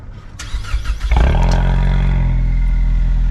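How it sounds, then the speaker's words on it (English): 2022 Ford Mustang EcoBoost High Performance Package started by remote, a brief crank followed by a loud roaring flare through the quad exhaust with its active valve, settling into a steady, deep idle close by. "we have remote start."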